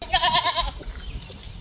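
Goats on a small farm bleat close by, a couple of loud wavering cries in the first half-second followed by quieter rustling and shuffling, with no talking.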